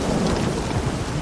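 Rain pours and thunder rumbles over the war-torn countryside of Velen in The Witcher 3, a loud, dense hiss of rainfall with deep low rolling beneath it, filling the short stretch without voices.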